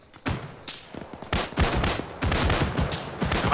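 Gunfire in the military video game Arma during a Cold War era battle: a rapid, dense run of loud shots and bursts, building into sustained automatic fire, with no talking.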